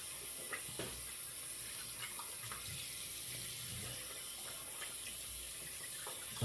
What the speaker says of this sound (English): Okay, so we'll rinse our hands.